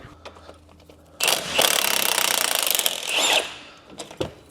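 A power tool undoes the two 18mm caliper carrier bolts at the back of a Renault Trafic brake assembly. It gives one loud, sustained burst of about two and a half seconds after a quiet start, followed by a few light clanks.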